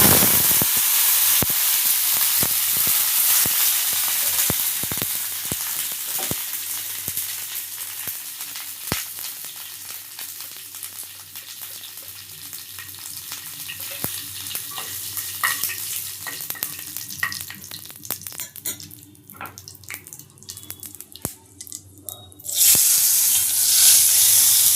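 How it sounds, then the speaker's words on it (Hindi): Hot oil sizzles and crackles steadily while dahi vada fritters fry in a home kitchen, a dense hiss with scattered sharp pops and spatters, loud and close, with no talking. "अरे इतना गर्म हो गया ना वो कि अब मेरे हाथ पे पूरे तेल के छींटे उछल गए।"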